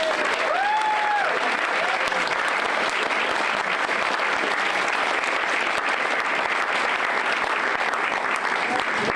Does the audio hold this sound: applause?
yes